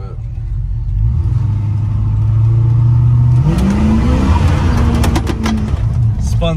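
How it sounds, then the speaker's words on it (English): Lowered 1978 Chevrolet C10 Big 10 pickup with a 383 V8 pulls hard under throttle, a loud sustained engine drone rising in pitch as it accelerates, heard from inside the cab. "I really like the power of this truck. So we'll kind of get on the gas here a little bit."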